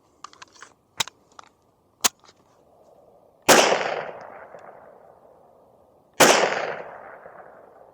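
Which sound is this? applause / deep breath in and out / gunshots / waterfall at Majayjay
gunshots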